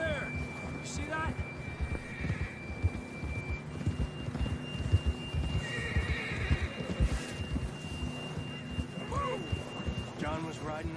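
In Red Dead Redemption 2, a horse whinnies several times over a steady clip-clop of hooves, with game music tones and ambient sound beneath, and occasional voices talking.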